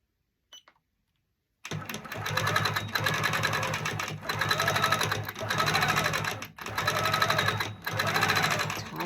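A sewing machine stitches a quilt with bobbin thread after a brief faint knock, running in steady near bursts with short pauses between runs, loud and alone.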